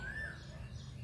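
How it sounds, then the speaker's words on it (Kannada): A single rising whistled call of an Asian koel rings out briefly, fairly faint, over a low background hum. "ಕೋಗಿಲೆ ಕೂಗ್ತಾ ಇದೆ."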